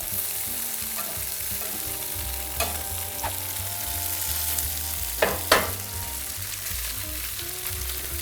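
Buffalo tofu fries in a pan with a steady, close sizzle and crackle, broken by a few sharp scrapes and taps as the pieces are stirred and turned.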